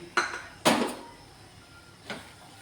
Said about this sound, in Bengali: এটাকে এবার একটু নাড়াচাড়া করবো